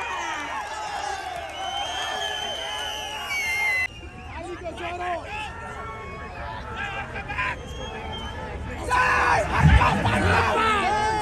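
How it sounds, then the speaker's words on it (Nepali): A crowd cheers and shouts in welcome as Harka Sampang comes onto the stage at a political party rally in Kathmandu. The sound is loud and sustained, with a dense babble of yells and voices that swells in a burst near the end. "तालीले स्वागत गरौँ"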